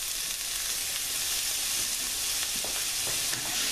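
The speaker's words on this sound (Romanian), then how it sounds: "Într-o tigaie am pus puțin ulei și adaug ceapa și morcovul." Chopped onion and grated carrot fry in a little oil in a pan, giving a steady, loud, close sizzle that fills the whole moment, with faint stirring scrapes near the end and no talking.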